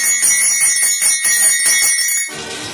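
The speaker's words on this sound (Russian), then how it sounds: "А это уже звук бубенца." A bronze horse-harness jingle bell rattles steadily with bright, metallic shimmering, shaken in a continuous rhythm before stopping abruptly.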